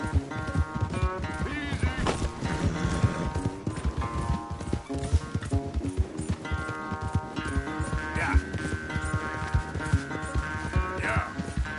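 Horse hooves clip-clopping at the start of a race, a steady rhythmic patter mixed with music, with a few brief spoken words.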